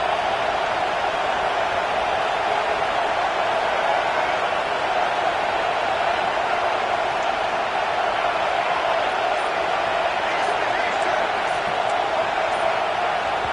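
A stadium crowd roars at a college football game, Texas A&M against Utah, a dense, unbroken wash of noise holding steady for the whole stretch without letting up.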